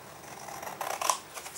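Scissors snip through a line of printed paper during a birthday-card craft, giving a brief close crisp cutting sound with a few quick blade clicks and no voices.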